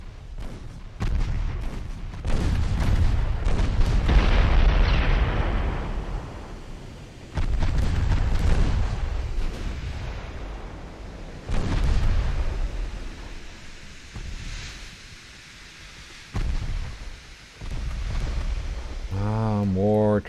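Naval gunfire and torpedo explosions from a sea battle in Ultimate Admiral Dreadnoughts, with repeated heavy booms and rumbling blasts arriving in bursts over about twenty seconds. Someone talks intermittently over the battle.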